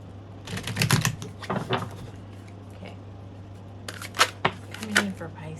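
A tarot deck is shuffled in two quick bursts of crisp riffling clicks separated by a quieter pause, close and fairly soft over a low steady hum.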